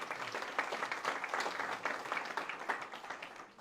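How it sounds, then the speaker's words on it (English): An audience gathered in Kinston applauds together at a police department recognition event, a steady wash of many hands clapping for several seconds that fades slightly at the end. "Give yourselves a round of applause for being here."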